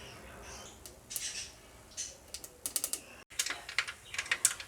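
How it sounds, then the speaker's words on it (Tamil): Mustard and fenugreek seeds splutter in hot sesame oil for an anchovy fish curry, making scattered, faint, close crackles and quick pops in irregular bursts. "கொஞ்சமாக ஒரு ஸ்பூன் வந்து கடுகு, கொஞ்சமாக வெந்தயம் போட்டுக்கலாம். பொரியட்டும்."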